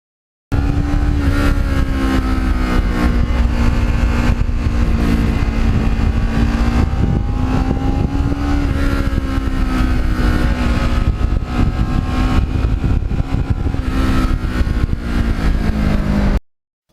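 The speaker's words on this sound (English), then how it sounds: "I just never get sick of going through the gears on this bike" A Kawasaki Ninja motorcycle, 13 years old and restored, revs hard through its gears, the loud close engine note climbing in pitch, dropping at each shift and climbing again for the full run, with no talking.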